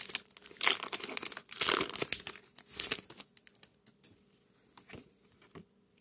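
Pokemon Scarlet and Violet booster pack wrapper crinkling and tearing open up close, with several loud bursts of foil rustle in the first half trailing off into quieter handling rustles.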